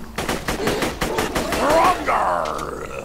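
Rapid automatic fire from a fire-elemental gun in Borderlands 2, a fast rhythmic string of loud shots followed by a growling, roaring voice from the game.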